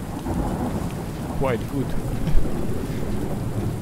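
Thunderstorm with steady rain in the video game Under A New Sun, a constant wash of rainfall with a low rumble of thunder swelling midway, while someone speaks briefly over it.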